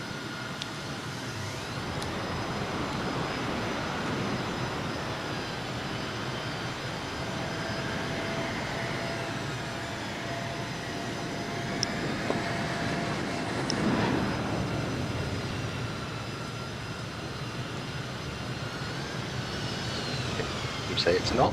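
In Microsoft Flight Simulator 2020, an F/A-18C jet's engines roar and whine at close range, a sustained broadband rumble with a rising, shifting tone as the aircraft passes low and settles nearby.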